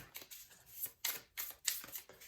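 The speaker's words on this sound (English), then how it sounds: "I am going to shuffle the cards right now" Tarot cards being shuffled by hand, a run of crisp riffling bursts in uneven rhythm, close and fairly quiet, with no voice.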